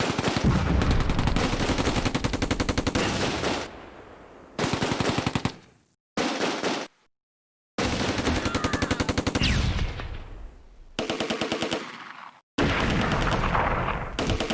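Gunfire in the WWII tactics game Close Combat: A Bridge Too Far: loud bursts of rapid machine-gun fire and heavy shots, broken by abrupt silent gaps, with repeated rattling volleys filling most of the span.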